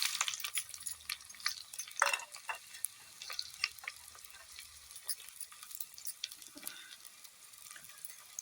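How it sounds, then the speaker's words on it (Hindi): Onions frying in hot oil inside a clay pot, a bright crackling sizzle with scattered pops and the occasional stir or clink nearby, fairly quiet and with no talking. "देखो तेल गरम हो गलान। एबे प्याज पकई दमा।"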